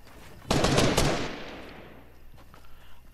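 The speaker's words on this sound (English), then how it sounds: "They're shooting over there." Automatic gunfire in a squad-based shooter video game, a sudden loud burst of rapid shots that fades into a lingering tail, with no talk over it.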